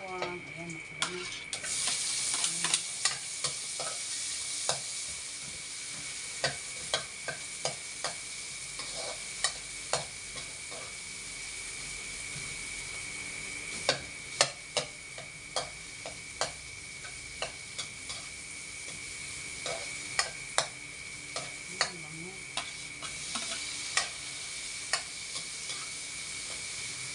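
Garlic frying until browned, a steady low sizzle running throughout with frequent sharp clicks and taps of a utensil against the pan.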